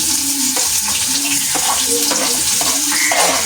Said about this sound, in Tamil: வெங்காயமெல்லாம் போட்டாச்சு